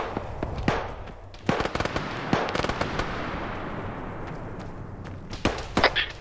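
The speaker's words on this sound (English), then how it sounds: "Guns on the roof taking fire." Gunfire rings out in the military game Arma 3, with irregular bursts of sharp cracks and pops at moderate distance, some clustered in quick volleys, over a constant background hiss.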